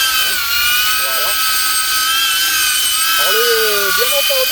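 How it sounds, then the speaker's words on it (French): DJI Avata FPV drone motors running nearby, a loud, high-pitched whine with shifting tonal lines as the rotor speed changes, steady and continuous, with a person talking underneath. "le drone fait beaucoup de bruit"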